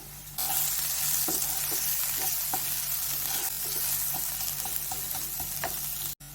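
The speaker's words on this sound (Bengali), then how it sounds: "মশলাটা একটুখানি কষে নেব" Chilli powder, cumin powder and salt sizzle steadily in a pan for a raw jackfruit cutlet, with a constant frying hiss broken by soft, irregular taps of a spoon stirring, close by and with no talking.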